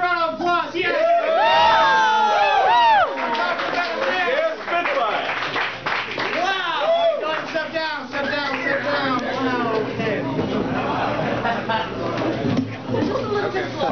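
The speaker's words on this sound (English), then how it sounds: "Give Alex a round of applause." A circus sideshow crowd claps, whoops and cheers after a bed-of-nails stunt, with loud excited voices rising and falling over scattered clapping throughout.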